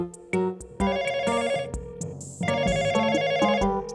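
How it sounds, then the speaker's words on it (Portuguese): A telephone rings unanswered in a children's cartoon, bright electronic ringtone bursts repeating over a bouncy musical backing, loud and close with no voices. "Ninguém está atendendo o telefone."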